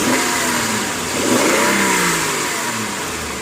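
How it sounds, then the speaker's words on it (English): A car engine revs loudly and steadily close by, the pitch swelling as it accelerates then settling back to a strong run, with no voices. "This engine, for me, it sounds pretty strong and pretty healthy"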